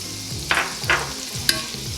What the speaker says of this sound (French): Et les échalotes. On fait revenir